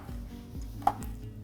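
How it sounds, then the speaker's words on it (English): A knife chopping a large chilli on a board, a few soft, regular knife taps with one sharper knock, close and quiet with no talk. "We'll finish off chopping the chilli,"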